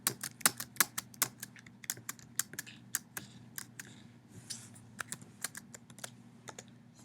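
Quiet, close typing on a computer keyboard, irregular keystrokes tapping in quick bursts over a faint steady hum.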